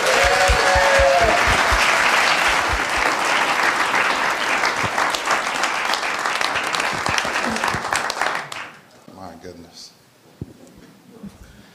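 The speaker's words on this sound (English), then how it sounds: "let's give a round, big warm round of applause to these guys and the Rock of Roseville." Warm round of applause from a congregation at a church anniversary gathering, dense clapping that fades out toward the end, leaving a quieter room.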